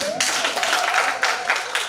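Clapping from a gathered audience at a children's hospital livestream event, a brisk wash of hands with a few sharper bursts, heard nearby while a voice carries on over it.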